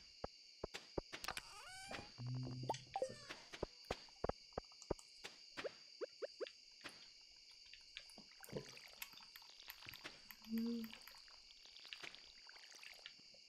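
Watering crops in the Stardew Valley farming game: short splashing pours of a watering can recur through quiet ambient game sounds, with faint clicks and small tones in between, and no talk.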